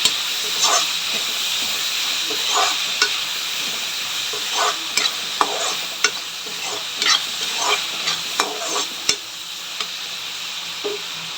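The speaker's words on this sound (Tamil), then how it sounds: "தக்காளி வந்து நல்லா வதங்கட்டும்" Tomatoes sautéing in a pan for hotel-style tomato kurma give a steady close hiss and sizzle with occasional spoon scrapes and stirring clicks, and no one talks.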